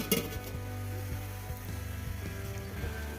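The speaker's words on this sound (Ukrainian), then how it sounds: "Тут цибулька жариться. І картопелька." Onions and potatoes sizzle and fry in a pan in an army field kitchen, a steady crackling hiss with a few soft clinks of a utensil against the pan.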